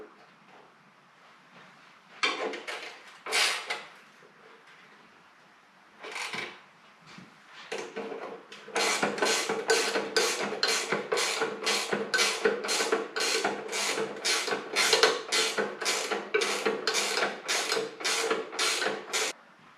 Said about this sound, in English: I'm going to go ahead and tighten up the hinge fender portion and then these front mount bolts